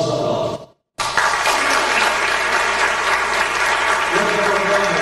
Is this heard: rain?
no